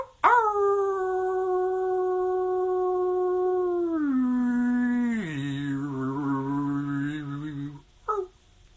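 A man imitates a wolf with a long, loud sustained howl that holds steady, then slides lower in pitch before breaking off, followed by a brief short yelp.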